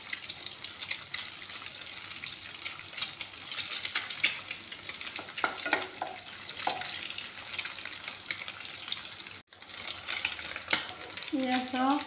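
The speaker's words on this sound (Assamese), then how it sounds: "কণীখিনি ভালকৈ ভাজি ল'ম।" Eggs frying in oil in a pan, a steady crackling sizzle with occasional stirring scrapes; the sizzle drops out for a moment near the end, then resumes.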